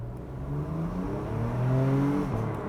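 Porsche Macan SUV in sport mode pulls away under acceleration, its engine note climbing steadily through the revs in a smooth, moderately loud drone.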